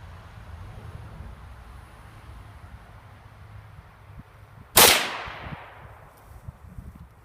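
A single sharp .22 WMR rifle shot from a Magnum Research MLR 1722M with a 21-inch barrel, fired during a velocity test. One loud crack midway rings off in a short decaying tail over quiet background hiss.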